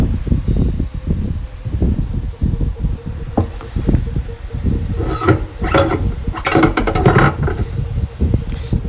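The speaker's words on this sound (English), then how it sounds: "lifted the engine out about 8 inches so that I can slide the drive shaft out" Kawasaki STX1100 jetski drive shaft slid out by hand with the engine lifted, giving scraping metallic rubs and knocks in a close workshop, with clusters of sharper clinks toward the end.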